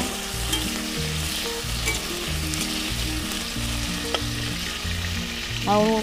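Potatoes fry in a pan over a lit stove for an egg-free jackfruit-and-prawn dish, a dense continuous sizzle with a low rhythmic hum underneath and a quick scrape of stirring near the close, no voices.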